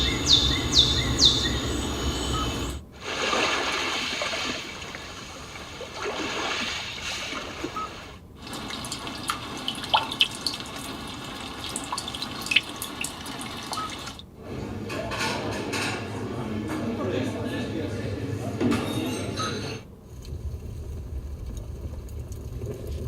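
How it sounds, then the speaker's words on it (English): A Hyundai Sonata's built-in nature sounds feature plays through the car speakers, cycling through soothing soundscapes such as calm sea waves, rain, an open-air cafe, a crackling fireplace and a snowy village, with steady trickling water and chirping birds in distinct sections. "calm sea waves, rainy day, open air cafe, warm fireplace, and snowy village"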